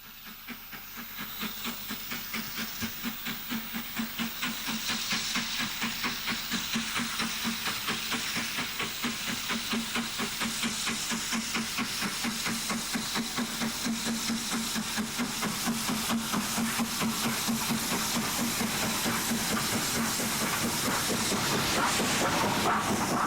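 The steam locomotive Evening Star pulls away with a semi-fast train, a steady loud hiss of steam running throughout, overlaid by rapid rhythmic chuffing that builds gradually as the engine gathers pace.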